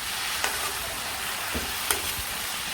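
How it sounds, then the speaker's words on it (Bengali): Vegetables frying lightly in a pan give a steady, even sizzle with a few soft clicks of stirring, close and continuous, with no voices. "তো সবজিটা ভাজি ভাজি করে নিই"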